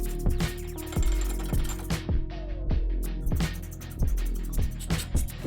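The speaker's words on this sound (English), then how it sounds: "then we're gonna tighten it up with the 16mm" A 16mm wrench tightens the brake caliper bolts on a BMW e90 330xi during a front brake job, giving a run of sharp metallic ratcheting clicks and clanks in quick irregular bursts, close up with no talking.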